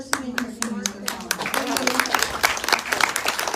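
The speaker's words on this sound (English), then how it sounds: "Give another big round of applause." Applause at a panel discussion event, a crowd clapping in dense scattered bursts that grow fuller and steadier, with a voice talking over the start.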